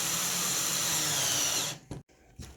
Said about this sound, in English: we're using the 25mm screws to screw the plywood to the framework